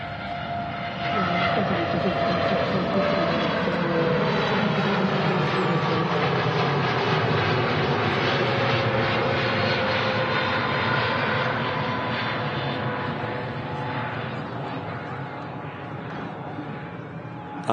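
TUI Boeing 787 Dreamliner taking off from runway 23 right at Manchester Airport, a loud sustained engine roar rising and rumbling steadily as the jet rolls and climbs, gradually easing toward the end.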